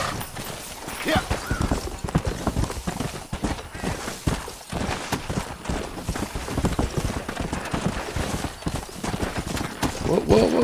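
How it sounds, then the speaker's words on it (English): Horse hooves clip-clop rapidly in a galloping rhythm in Red Dead Redemption, steady and close throughout, with a brief whinny near the end and occasional voices underneath. "Swipe one of these horses."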